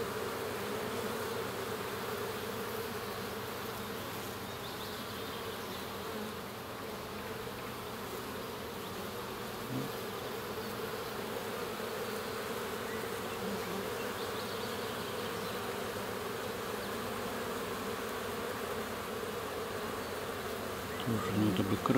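Honeybees from a strong colony drone steadily at a hive for the whole stretch, a dense, even buzz with no talk over it.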